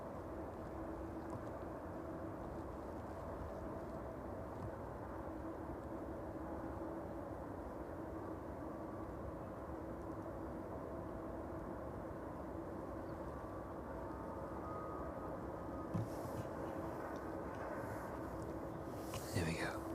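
An airliner taxis slowly toward its evening stand at East Midlands Airport, a steady low jet-engine drone that holds level throughout, with a faint brief higher whine rising near the end.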